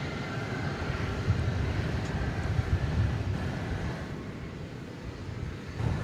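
Airliner coming in to land at DFW Airport at night, a steady broad jet roar that swells slightly and holds at moderate distance without any talk.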